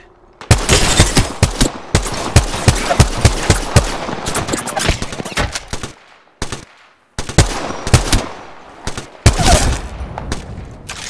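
Rapid automatic gunfire fills a firefight in the video game Apex, with dense bursts of loud shots. Brief gaps break the shooting before the rattling volleys resume.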